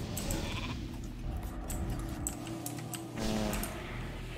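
A sheep bleat from a polymorph spell in World of Warcraft arena PvP rings out briefly near the end, over busy game sound effects and music.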